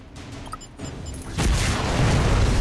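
In Marvel: Avengers Alliance 2, the Devil Rockets attack sets off a rising wave of loud, dense explosive booms that swell into a continuous roaring barrage and stay close and heavy to the end, with no voices.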